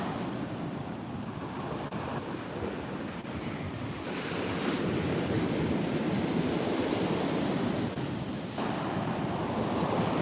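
Sea waves wash steadily onto a shore in Korea on a rainy day, a continuous broad surf roar mixed with wind buffeting the microphone, swelling slightly louder midway and with no one talking.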